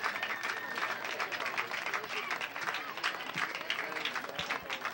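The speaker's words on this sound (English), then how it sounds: "the crowd appreciating seeing a good game and good sportsmanship applauds the Penn Valley team in their championship" A crowd at a Little League All Star championship baseball game applauds steadily throughout, with dense clapping close by. Voices are mixed into the applause.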